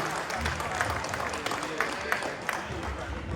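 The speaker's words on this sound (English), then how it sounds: "Please give my cousin a round of applause. Huge round of applause." A Hall of Fame celebration crowd gives a dense, continuous round of applause with a few sharper claps standing out, heard alongside some background talk.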